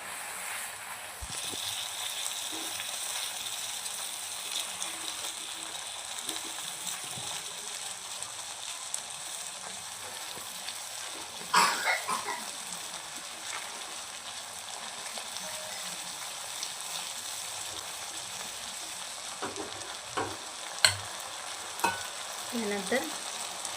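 A paste of poppy seeds, coconut, cashews and almonds sizzles steadily in a pan with ginger and garlic for a chicken korma, a constant close hiss broken by a few soft stirring scrapes.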